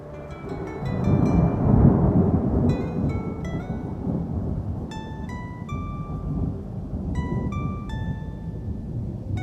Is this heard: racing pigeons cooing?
no